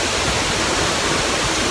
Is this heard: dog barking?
no